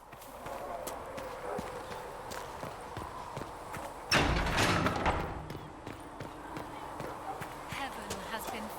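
Horse hooves clip-clopping in the video game Dragon Age: Inquisition, a steady run of hoofbeats under game ambience with a louder burst of other sound midway.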